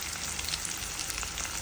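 Onions, garlic and curry leaves fry in hot oil for Telugu tomato dal, giving a steady, dense, crackling sizzle close by with no voices.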